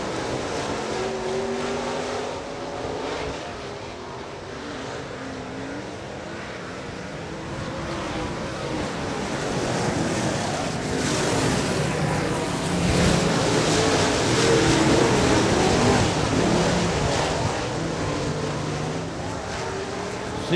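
Late model race cars roar through a green-flag restart at Salina Speedway, making a continuous broad engine drone that swells louder near the middle and end as the pack passes.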